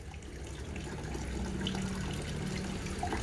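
Water poured or running for a catfish pond, a continuous low rushing, splashing flow held steady throughout at moderate level, with no voices.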